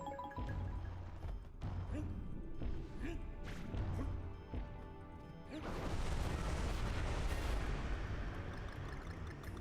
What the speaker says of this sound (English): Yeah, so this is a rocket barrel level